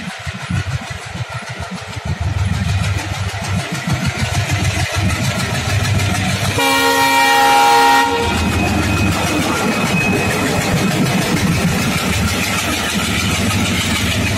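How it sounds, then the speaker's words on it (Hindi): The Amritsar-Ajmer Express, pulled by a WDM3A diesel locomotive, approaches with a deep, rising engine roar. A loud horn blast sounds partway through, then the heavy diesel rumble continues close by. "ये सामने से ट्रेन आ रही है with W D M three है लोकोमोटिव के साथ"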